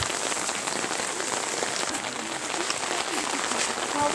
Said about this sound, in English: Everything else except us is loving the rain.